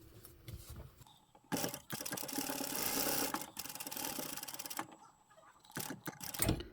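A sewing machine stitches the side seam of a fabric tote bag in several bursts. The quiet motor whirs and ticks quickly between short pauses, and the longest run comes in the middle.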